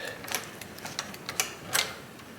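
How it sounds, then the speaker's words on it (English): Three electrical wires being twisted together by hand after stripping, giving a series of faint, irregular ticks and crackles from wire ends rubbing close by. "Give them a good twist."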